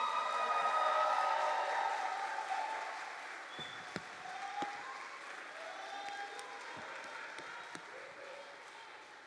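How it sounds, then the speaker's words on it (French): Audience applause at a gospel concert, a broad wash of clapping that starts loud and slowly fades over several seconds, with faint voices and a few sharp accents mixed in. "Acclamation pour Laetitia qui m'a accompagné sur ce morceau."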